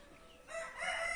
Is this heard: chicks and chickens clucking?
yes